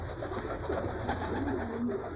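Homing pigeons in a loft coo in soft, low, repeated murmurs, close by and steady, with a faint background hum and no talking.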